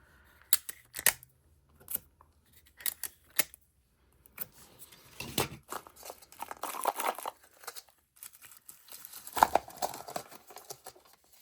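Tape being pulled and readied for a pencil craft: sharp crinkles, peels and snaps come in scattered short bursts, close and alone, with a longer rustling stretch in the middle.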